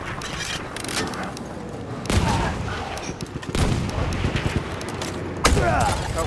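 Heavy tank cannon fire on the Sinai Desert map in Battlefield 1 booms out in a few heavy blasts amid continuous battle noise and scattered gunfire, with a voice talking over it.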